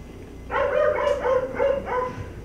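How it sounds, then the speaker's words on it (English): A dog barks several times in quick succession, loud and close, with the barks running together in a sustained burst and no talk over them. "That bark goes right through me."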